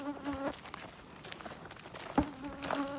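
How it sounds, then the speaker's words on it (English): Insects buzzing close by on a wooded hiking trail at White Memorial in Litchfield, Connecticut: a faint, whining hum that swells as bugs pass near the ear, once at the start and again near the end. "the bugs in here are just incredible"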